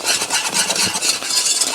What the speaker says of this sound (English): Whisk it very fast